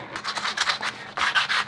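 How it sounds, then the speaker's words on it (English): Sandpaper rubs back and forth over a metal rifle handguard being distressed for camouflage, a steady run of rhythmic scratchy strokes with a brief pause, close and alone. "now I'm going to go back over, see if it removes any sanding marks"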